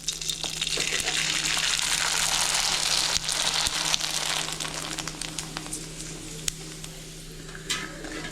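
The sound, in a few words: sago (javvarisi) vadam frying in hot oil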